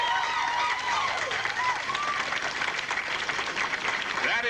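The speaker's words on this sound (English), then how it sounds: "And I think that deserves applause." A crowd applauds continuously with whistles and cheers, loud and steady throughout, for the Everly Brothers being named among the first inductees into the Rock and Roll Hall of Fame.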